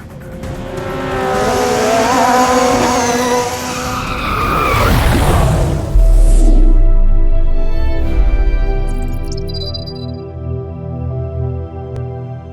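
A Formula 1 race car engine wails at high revs with rising and falling pitch, then tires squeal briefly before a deeper rumble fades away.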